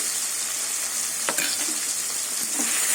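Turmeric-and-salt-coated prawns frying in a hot pan with gourd greens (lau shak), a dense continuous sizzle close up, with a few brief stirring scrapes and no talk.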